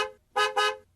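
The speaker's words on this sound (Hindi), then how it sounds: "अरे ये घर के बाहर से ट्रक की हॉर्न की आवाज कैसे आ रही है?" A truck horn honks outside a house in an animated Hindi story: one short toot, then two longer blasts in quick succession, bright and distinct against a quiet background.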